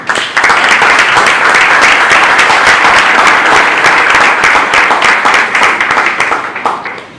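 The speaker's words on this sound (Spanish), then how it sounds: "lo recibimos con un aplauso" An audience at a marathon event applauds to welcome a speaker, giving loud, close, dense clapping that starts abruptly, holds steadily for several seconds and then thins out toward the end.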